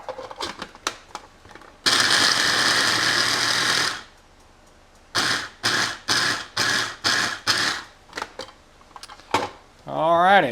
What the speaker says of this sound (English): I just throw it in there and grind it up.